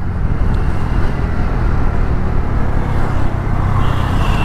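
A TVS Ntorq BS6 scooter engine runs steadily during a test ride, a loud continuous low drone and road rush with no pauses throughout.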